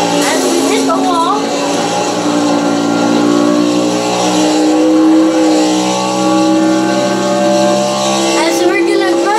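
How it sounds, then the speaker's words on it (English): A NASCAR Chevrolet in Project CARS at Watkins Glen roars continuously at high revs, with tyre screech as it skids through a turn toward the wall; a voice talks over the steady loud engine drone. "We're gonna skid in this turn, and skid again, as we hit the wall."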